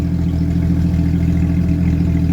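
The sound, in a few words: vehicle engine running with stock exhaust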